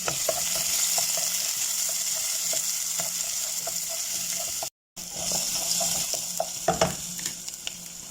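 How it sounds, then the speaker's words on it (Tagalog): Garlic, onion, black pepper and bay leaves sizzle steadily in a hot pot, with a loud, continuous crackling fry, a brief dropout, then scraping stir sounds near the end. "Igisa natin ang bawang, sibuyas, paminta at saka bay leaves."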